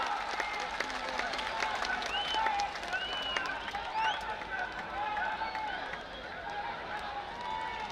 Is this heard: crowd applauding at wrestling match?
yes